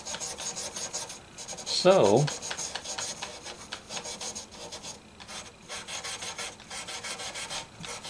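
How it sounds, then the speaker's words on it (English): Steel wool scrubbing rust off the frets of a Gretsch guitar, a close, rhythmic rasping rub in repeated short strokes, with a brief spoken word partway through. "Going to see if a little steel wool will take the rust off frets."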